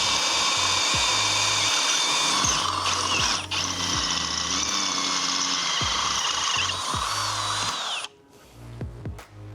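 A Smart Step drill bit bores through a 6mm steel plate, a loud, steady high-pitched grinding whine with rhythmic ratcheting clicks underneath, cutting off abruptly near the end as the bit breaks through.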